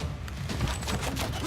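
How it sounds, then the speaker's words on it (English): A brief, rapid volley of crackling, popping shots as an archer unit fires in Civilization 6, dense and continuous for about a second and a half. "We're gonna have this archer come here and fire there."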